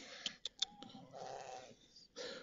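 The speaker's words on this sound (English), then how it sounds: "very friendly little sheep here, likes to be around me" A friendly little sheep on a pasture bleats in a few short, close calls, followed by a longer wavering bleat and another brief cry, with no talk over it.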